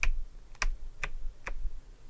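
Safe dial clicks recreated by flicking the thick pages of an agenda, four crisp separate ticks spaced about half a second apart, close and dry over a quiet background.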